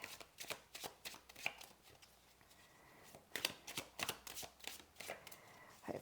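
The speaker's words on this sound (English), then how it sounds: "Hopefully that gives it a bit of a shuffle." Tarot Grand Luxe cards shuffled by hand close by, a quiet series of crisp riffling and slapping bursts with short pauses between them and no voice.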